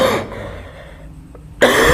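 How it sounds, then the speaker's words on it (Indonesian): A single person's cough, a loud close burst at the start and another sharp one at the end with a hush between. "Maaf, saya sedikit batuk."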